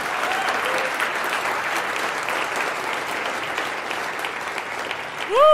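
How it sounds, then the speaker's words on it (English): Sustained audience applause fills the room at a steady level on a political talk show, broad clapping with a few voices underneath and a short whistle-like tone rising near the end. "I think we should give them a round of applause for that."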